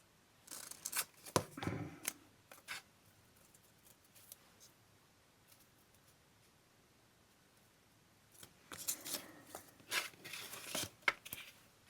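Scissors cut paper for a layered landscape collage page, two clusters of close snipping and rustling separated by several seconds of near silence.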